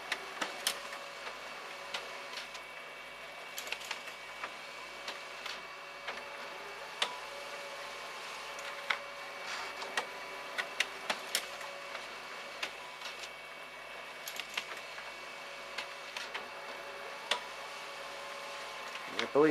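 A Lexmark C544 colour laser printer runs steadily while printing pages, giving off a continuous mechanical whir with regular small ticks and clicks. Faint talk can be heard underneath it.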